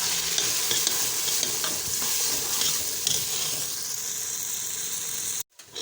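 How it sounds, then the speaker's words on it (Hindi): Garlic and ginger paste frying with onions in a pan for a shaljam chicken dish: a steady, close sizzle and hiss with stirring scrapes throughout, ending in a sudden brief cut to near silence. "अब हम इसकी अच्छी तरह भुनाई कर लेंगे लहसुन अदरक की।"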